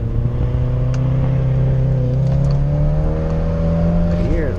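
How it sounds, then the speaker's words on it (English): A Nissan S14 drifting at a drift event holds high revs after a clutch kick, its engine a loud, close, steady droning tone that climbs slowly in pitch. "It's actually drifting."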